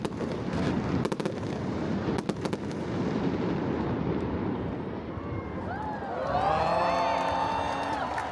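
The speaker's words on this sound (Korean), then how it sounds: "여기 오셔서 불꽃놀이 보는 것을 꼭 추천드려요" Fireworks burst at a Sydney festival as a few sharp, distant bangs over a busy outdoor crowd, followed by rising whistling tones.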